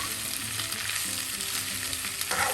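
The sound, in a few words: ivy gourd (kovakkai) frying and being stirred in pan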